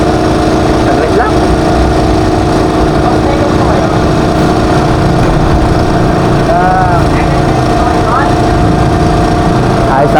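A Sym Bonus 110 motorcycle's small engine running steadily at a repair shop, a continuous mid-pitched drone that stays loud and even throughout, with voices speaking faintly in the background.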